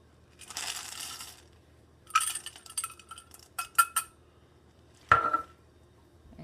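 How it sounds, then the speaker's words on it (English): A whisk scrapes and clinks against a bowl in several short bursts, stirring chocolate chips into a hot, just-boiled mixture for a brownie-like chocolate cake after the heat is turned off. "we're going to turn the heat off and start whisking in our chocolate chips"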